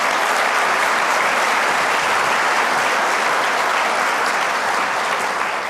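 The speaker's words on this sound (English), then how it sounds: "Please give them another round of applause." Attendees at the 2017 USBC bowling convention annual meeting clap for the morning presenters, a broad, sustained roar of many hands that stays steady and full throughout.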